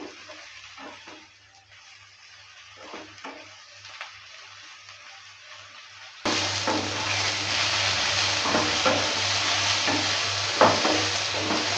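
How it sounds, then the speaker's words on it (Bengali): Eggplant pieces frying in hot oil in a pan give a steady sizzle that turns louder and denser partway through, with soft stirring scrapes now and then and no talking. "কিছুক্ষণ সময় নিয়ে বেগুনগুলোকে ভালো করে একটু ভেজে নেব"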